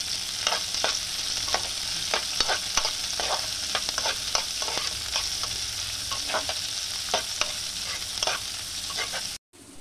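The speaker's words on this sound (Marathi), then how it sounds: "तो कांदा आपण आता टाकून घेणार आहोत आणि आपण छान कांदा परतून घेणार आहोत मस्त" Chopped onion sautés in a pan for spicy paneer masala Maggi, giving a dense, even sizzle with frequent light scrapes and taps of the spoon. Close and continuous, then cutting out briefly at the end.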